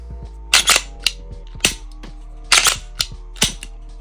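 Trigger of a PSA Dagger pistol clicks crisply through repeated pulls and resets, sharp close mechanical snaps in uneven pairs and singles over a low hum.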